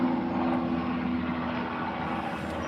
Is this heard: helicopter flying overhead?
yes